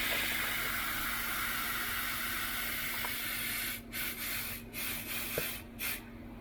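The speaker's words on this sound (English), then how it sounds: "Now you want to reinflate the tire just to make sure there's no problems." Air pumped into a fat e-bike tire to reinflate it after a flat repair, a continuous close hiss that later breaks into short on-off bursts.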